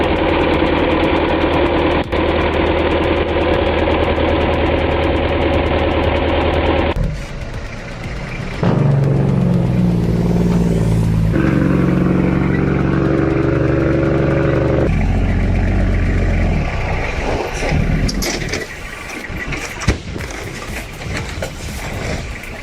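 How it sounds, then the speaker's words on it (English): A Belarus MTZ-82 tractor stuck in deep, viscous peat: a loud diesel engine idles steadily, then cuts out briefly, returns with a deeper labouring note and irregular revving, and finishes in rougher, mixed mechanical noise. "Even a legend like the Belarus MTZ-82 tractor meets its match. This deep, viscous peat has completely immobilized the machine"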